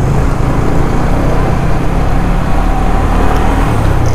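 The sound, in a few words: road traffic noise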